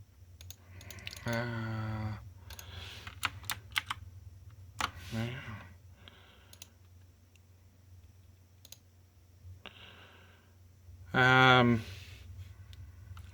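Computer keyboard keys are pressed in a short burst of quick clicks for a Ctrl Alt Delete combination, interspersed with someone talking nearby.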